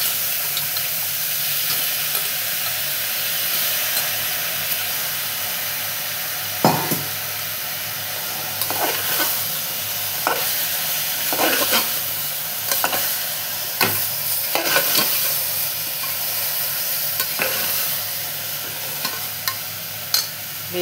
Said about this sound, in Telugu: బీరకాయ వేసేయాలి.